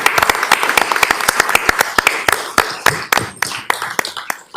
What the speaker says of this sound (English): Let's give him applause again.